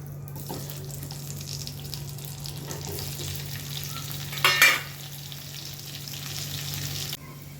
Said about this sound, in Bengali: এর মধ্যে আমি একটু কয়েকটা আলু ভেজে নেব।